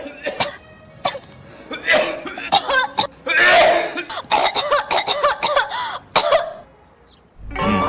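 Repeated coughing in a comedic Thai advertisement for cough syrup, dubbed into Cantonese, with harsh, bursty coughs coming close together, mixed with throat clearing and spoken lines throughout.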